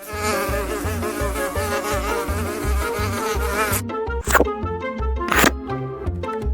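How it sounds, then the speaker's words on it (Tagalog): Insect buzzing from flies in the Shin Sonic video game, a steady droning hum that carries through the whole stretch under game music, with a couple of sharp louder bursts near the end. "May langaw!"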